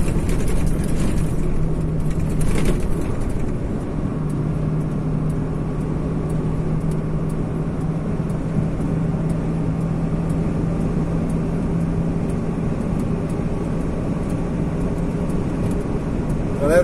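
Vehicle, apparently a truck, driving on a vibrating concrete highway in the Andes near the Argentina–Chile border, with a steady loud engine and road rumble droning on throughout.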